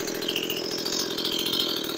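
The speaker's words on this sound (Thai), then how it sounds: "เลื่อยยนต์สเตลครับ" Used Stihl MS180 chainsaw idling steadily up close, a continuous buzzing two-stroke drone that stays even and loud throughout.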